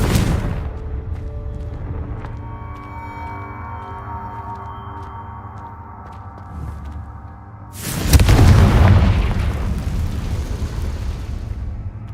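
A Confringo spell explosion from Hogwarts Legacy: a sharp burst at the start, a low humming stretch, then a loud, sustained roaring blast that rumbles on for several seconds. No one speaks.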